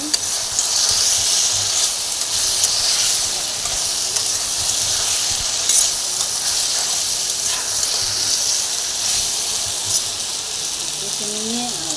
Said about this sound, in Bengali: এবারে আমি এই ভেজে রাখা ঢ্যাঁড়সটা দিয়ে দেবো। ভালো করে কষে নেব।